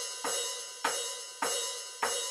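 Four evenly spaced open hi-hat hits with the foot pedal released, each a bright sizzling cymbal wash that rings and decays slowly until the next strike, close and moderately loud, no talking.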